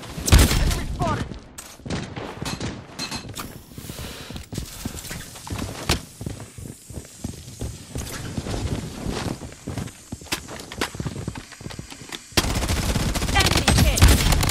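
Rapid bursts of automatic gunfire from an MCX rifle in the shooter game Blood Strike, dense cracking shots layered with footsteps and game effects, loud throughout with a heavier barrage near the end.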